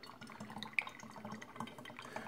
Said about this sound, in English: we're going to pour this in my bottle